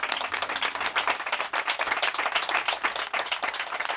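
Audience applause at a literary talk with a writer, lively crisp clapping from a modest crowd, close and fairly loud, steady with rhythmic peaks throughout.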